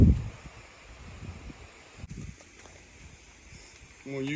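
Gusty outdoor wind buffets the microphone in low rumbling bursts, strong at the start and again near the end, with quieter stretches between.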